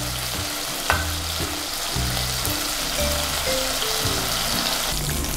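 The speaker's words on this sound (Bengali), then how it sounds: "চিংড়ি মাছগুলোকে খুব বেশি ভাজবো না, 2-3 মিনিট একটু ভেজে নিয়েই" Prawns frying in hot oil for a Gondhoraj chingri dish, a continuous close crackling sizzle with stirring scrapes, accompanied by a soft repeating background melody.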